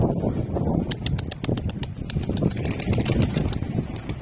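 Several pigeons on a rooftop in Istanbul coo and flutter close by, with a steady low engine hum running underneath throughout.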